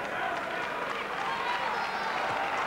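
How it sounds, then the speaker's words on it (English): A boxing crowd at the Lloyd Honeyghan versus Jorge Vaca fight applauds steadily in a dense, continuous wash of clapping, with a voice audible underneath. "he gets an appreciative clap from the crowd"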